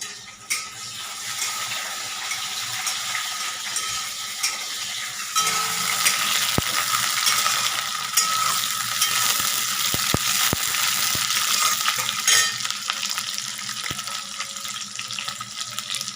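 Onions frying in a pan give a steady, bright sizzle that grows louder partway through, with sharp clicks of stirring over the hiss and no talking.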